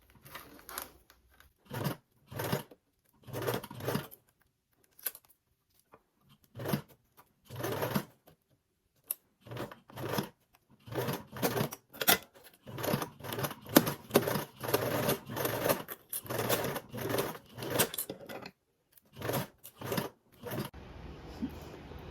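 A sewing machine bastes stitches through zipper tape and stiff mesh in short bursts of rapid mechanical chatter, starting and stopping repeatedly with brief pauses, close and clear with no voices.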